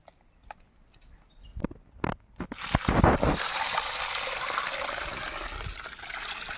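A few scattered knocks give way to continuous sloshing and swirling as five kilograms of cow dung is mixed into water for jeevamrut, close and fairly quiet.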